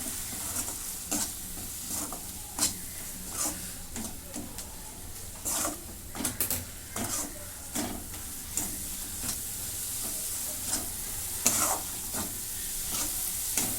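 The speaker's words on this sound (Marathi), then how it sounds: "मोठ्या गॅसवर मी याला एक मिनटं परतते" A masala of tomato, coriander powder, garam masala, red chilli powder, turmeric and onion-garlic spice paste fries over high heat for a dried green pea dish, with steady sizzling and repeated spatula scrapes and taps.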